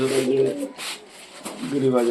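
High-flyer and Giribaj pigeons coo nearby in soft repeated throaty calls, with short gaps between them.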